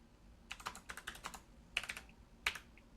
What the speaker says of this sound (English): I wish I knew what he was typing.